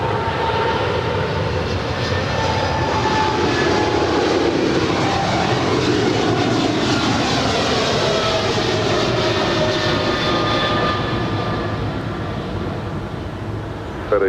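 A 777 jet airliner departs runway 25 right at LAX, a steady broadband engine roar holding loud and constant for the whole stretch, easing slightly near the end, with no talk over it.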